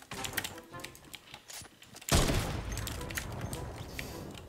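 Sniper rifle fire in the Fortnite video game, a sudden loud blast about halfway through followed by sustained rumbling gunfire and clatter, with scattered sharp clicks beforehand.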